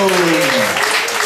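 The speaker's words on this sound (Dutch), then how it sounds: "En ontvangt ze met een daverend applaus Arnold en" Loud, dense applause from an audience at an evening variety show, a thick wash of clapping with voices and a shout rising over it in a short burst.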